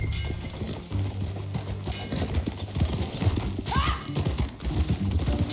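Horse hooves clip-clop at a steady riding gait in the video game Red Dead Redemption 2, with a brief whinny partway through, all over a low rumbling game background.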